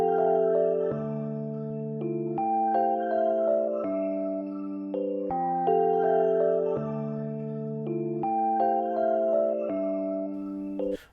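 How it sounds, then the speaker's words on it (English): A sidechained piano layered with a piano texture preset in FL Studio plays a slow chord progression with gently pumping sustained chords and a soft top melody, heard alone with no voices. "I'm going to sidechain this main piano to an empty mixer preset track, and then put this piano texture"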